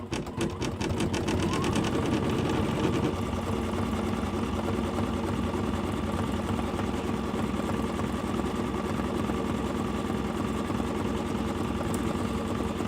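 An embroidery machine stitches out an in-the-hoop circle coin purse design with a steady, fast mechanical whirring and rapid needle chatter. It runs loud and continuous throughout, close by, with no talking.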